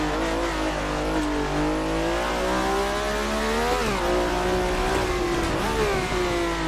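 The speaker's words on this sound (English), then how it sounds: "A Formula 1 car, that is." Formula 1 car engine in the Assetto Corsa racing game on the Nürburgring Nordschleife, a loud, continuous high-revving scream with pitch sliding up and down through gear changes, close and dominant with no voices.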